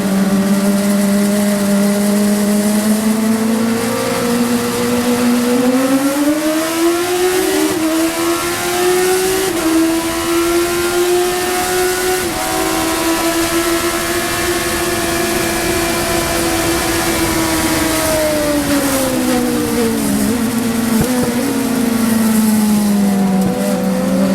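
Race cars bunched four or five abreast under late braking at Laguna Seca, a loud continuous roar of engines rising and falling in pitch as they slow and accelerate, with no talk over it.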